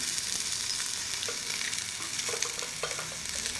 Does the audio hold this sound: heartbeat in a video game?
no